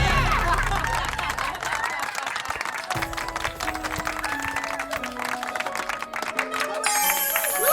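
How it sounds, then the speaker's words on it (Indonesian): Audience applause and crowd noise at an evening prom contest as the first contestant is introduced, steady and dense through the clip with tonal music-like elements emerging partway and a brighter burst near the end. "Mari kita berikan tepuk tangan untuk peserta pertama kita."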